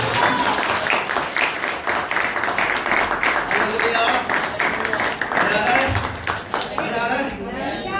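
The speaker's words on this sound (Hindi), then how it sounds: "जोरदार ताली बजाइए प्रभु की महिमा" Church congregation at a Sunday service clapping loudly and rhythmically, a dense crowd of hands in a reverberant hall, with voices calling out over the applause throughout.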